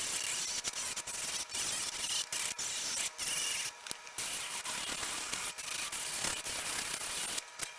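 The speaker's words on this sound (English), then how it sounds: "So I'm just going to go ahead and file that and see how it takes it off" An electric nail file grinds regular nail polish with one coat of top coat off a nail, giving a steady close-up rubbing, sanding whir broken by brief pauses, with no talking.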